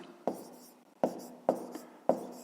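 Pen strokes on paper during a fifth-grade math subtraction exercise, four sharp scratchy onsets each trailing off, evenly spaced, close and fairly quiet with no talk.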